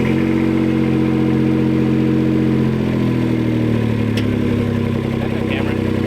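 A 1999 Kei truck with a custom exhaust drives off, its small engine droning loudly and steadily with a throaty, buzzing exhaust note that shifts pitch as it pulls away, close and continuous throughout.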